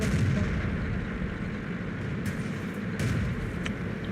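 A tank cannon fires in World of Tanks amid continuous dense battle noise, with deep booming blasts and sharp bursts rolling through a loud, sustained low-frequency rumble.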